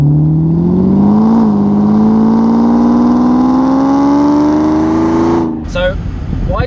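A Mercedes-Benz 600SL V12 convertible engine revs up close and loud. It climbs in one long sustained rise, then cuts off abruptly, followed by a brief excited voice.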